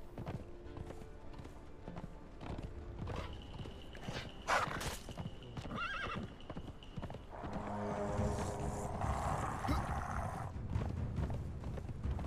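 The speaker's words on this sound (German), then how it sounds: "So, wir reiten jetzt hier einfach nur noch durch." Horse riding in Conan Exiles, with a steady clip-clop of hooves close by and a short whinny partway through, over a quiet ambient background that swells toward the end.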